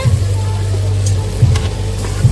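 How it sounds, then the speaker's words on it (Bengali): Garlic paste sizzles in hot oil among tomato and spices, a steady close hiss over a low hum with a few brief louder spits. "তেলের ওপরে রসুন বাটা দিয়ে দিচ্ছে"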